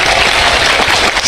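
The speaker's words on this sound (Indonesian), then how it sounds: "tepuk tangan untuk Kak Igun." A brief burst of loud, dense clapping from an audience at an Indonesian religious talk, close and continuous over a moment.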